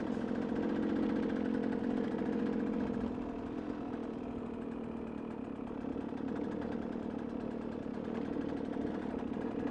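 A KTM motorcycle engine runs steadily on a rough dirt road near Marble Canyon, Arizona, a loud continuous mid-pitched drone with a slight dip in the middle and no talk.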